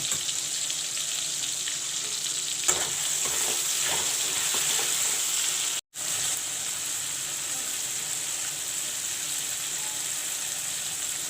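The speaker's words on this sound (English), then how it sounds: "This is dhania paste, which I will put in the curry now." Dhania, mustard, ginger and garlic paste frying in a village-style fish curry, a continuous close sizzle with stirring scrapes and clinks, briefly cut off midway before the frying resumes, no talk.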